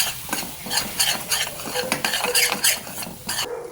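Tamarind and gram flour fry in a pan for girmit, a puffed-rice snack, with a spoon scraping and stirring in steady repeated strokes over a constant close sizzle; no voices.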